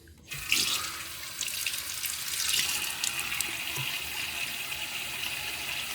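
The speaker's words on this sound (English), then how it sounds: "Let me get my face wet real quickly." A bathroom faucet runs continuously as a face is wetted before a wet shave. The water starts abruptly, then gushes and splashes at a steady, close level throughout.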